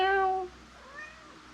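A cat gives one clear, close meow that falls away within half a second, then a second, fainter meow follows over quiet background hiss.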